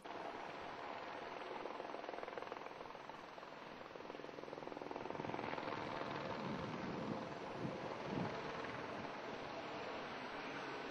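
A helicopter flying over coastal bush at Byron Bay spraying bitou weed, a steady rotor drone that swells louder midway as it passes, with some wind noise.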